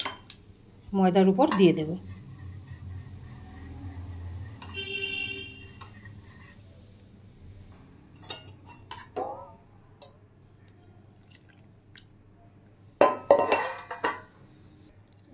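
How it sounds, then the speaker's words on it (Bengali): A spoon stirs yeast soaked in water in a container, making short bursts of clinking and scraping near the start and again near the end, with quiet gaps and some speech between. "এবার এটা আমি একটু সামান্য চামচ দিয়ে গুলে"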